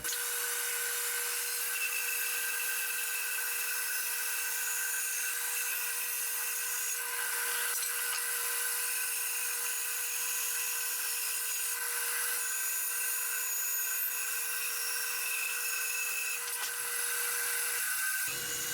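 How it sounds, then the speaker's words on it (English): A bandsaw cuts the rough shape of a wooden whiskey flight in a garage workshop: a steady, loud, continuous high whine holds for about eighteen seconds, then stops abruptly near the end, with no talk. "bring it over to the bandsaw and we're going to cut out the rough shape of it"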